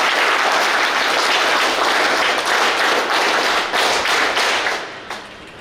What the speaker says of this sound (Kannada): ಸರ್, ಚಪ್ಪಾಳೆ ಇಷ್ಟ.